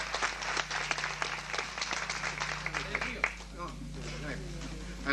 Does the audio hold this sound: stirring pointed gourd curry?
no